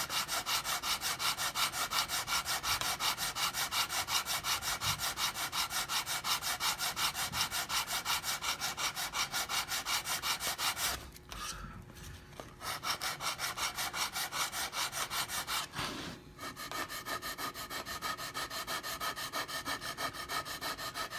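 A wooden half-hull keel stem for a catboat model is shaped and beveled with hand tools, giving steady, continuous rasping and sawing strokes close by, briefly pausing twice partway through.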